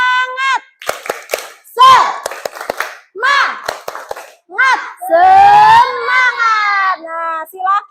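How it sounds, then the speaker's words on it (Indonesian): A class of schoolchildren doing a rhythmic spirit clap in a classroom, sharp patterned hand claps alternating with a teacher's and children's chanting voices, loud and close. "Tepuk semangat."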